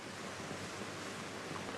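Water and spray thrown up by an ocean nuclear test explosion fall back in a dense, steady roar, like heavy surf or a downpour, continuous and faint at a distance.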